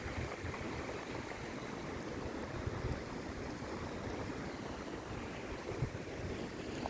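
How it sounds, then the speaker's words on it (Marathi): Water pouring steadily from a free-flowing borewell on an agricultural plot among mango and cashew plantings in Dapoli, Konkan, a continuous broad rushing wash heard close and alone for the whole stretch. "पाणी कसं वाहतंय."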